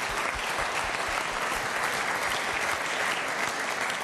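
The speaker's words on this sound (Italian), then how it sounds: "un applauso alla Lavagnese, ma ritorneremo." An audience claps steadily for the Lavagnese sports club, dense and even applause continuing throughout, with no voices over it.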